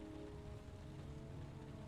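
Steady rain in the game Heavy Rain, a soft, even patter of drops on surfaces that continues unchanged throughout the brief stretch.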